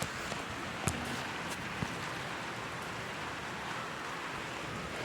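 Steady, soft hiss of rain falling continuously, with a couple of faint taps standing out briefly; no voices.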